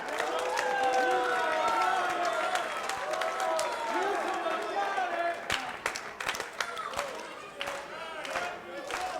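An independent pro wrestling crowd at ISPW Sunday Night Slam cheers for Carlito, with a dense roar of shouts and whistles that builds and then breaks into scattered yells, claps and ring thuds, loud and continuous with people talking under it.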